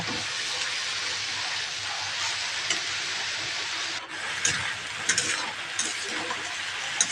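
Salted dondokolos greens cook in a pan, with a broad steady hiss of moisture and a few louder scraping stirs and clinks near the end.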